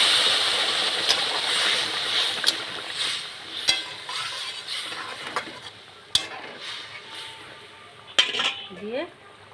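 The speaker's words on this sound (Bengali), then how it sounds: "এবার আমি তরকারিটা ঢেলে দেবো।" Vegetable curry poured into a pan of fried cumin in a village Bengali kitchen, with clattering pot and utensil knocks and scraping over a soft background of sizzling and cooking noise, without speech.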